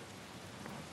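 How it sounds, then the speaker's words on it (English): Rain in the action game Sifu hisses as a dense, steady wash of falling drops. It sounds even and close, with no voices. "Yes, it's raining."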